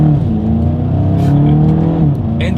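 A Volkswagen Golf GTI accelerates hard through its paddle-shifted gears. The engine note climbs loud and close, then drops sharply at a quick upshift near the end.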